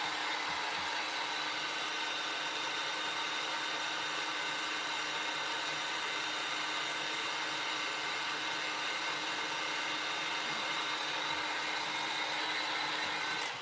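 A hair dryer blows steadily on handmade Christmas geese crafts, a loud, unbroken close-up whoosh and motor whine that holds for the whole stretch before cutting off at the end, with no speech.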